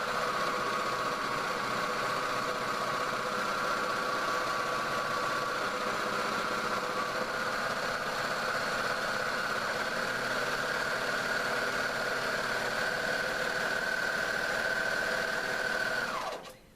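A sewing machine stitches a rolled hem on a napkin, running as a fast, steady mechanical whir with a constant pitch for the whole stretch, then stopping abruptly at the end.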